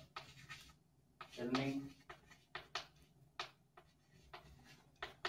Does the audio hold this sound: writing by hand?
yes